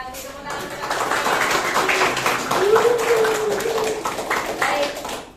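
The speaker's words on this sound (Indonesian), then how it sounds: "tepuk tangan" Students clap together in a classroom during a guidance lesson, a brief burst of applause mixed with a teacher's voice talking over it.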